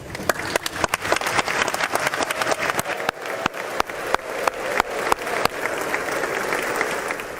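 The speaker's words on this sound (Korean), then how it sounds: "그냥 소개만 했는데도 박수가 끊이질 않습니다" Sustained applause in the US Congress chamber as South Korea's president is introduced, a large crowd clapping loudly and continuously with sharp individual claps standing out, a few gavel-like knocks early on.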